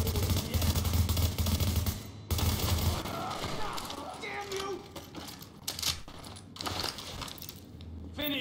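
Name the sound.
gunfire in video game The Division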